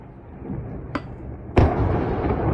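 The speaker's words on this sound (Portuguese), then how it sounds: "Ou seja, deu para ver explosões bem grandes ali na região" Explosions from strikes near Avdiivka, Ukraine: a sharp distant blast, then a second, heavier boom that leaves a sustained roar, all over a constant rumbling background.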